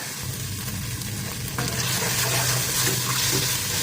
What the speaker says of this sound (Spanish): Ya van como 10 minutos que estoy moviendo este aderezo porque la cebolla tiene que estar bien frita